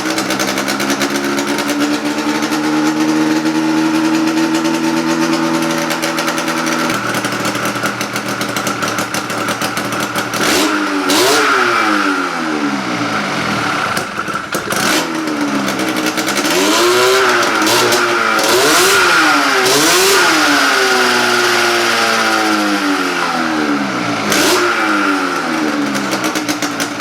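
A 100HP snowmobile engine swapped into a go-kart idles loudly, then revs repeatedly in rising and falling bursts, very close and harsh throughout.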